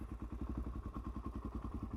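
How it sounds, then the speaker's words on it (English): An inline-four motorcycle creeps away from rest on the clutch alone with no throttle, its engine giving a steady, close, lumpy low pulsing with faint mechanical clatter and no voices. "as you can see, the bike just pulled away on its own"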